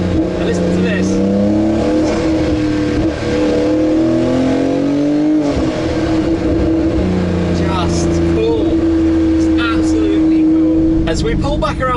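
A powerful car engine revs hard and accelerates, its roar climbing in pitch through repeated gear changes, loud and close throughout.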